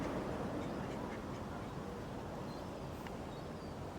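Ducks quacking faintly in the distance over steady outdoor background noise, a few scattered calls.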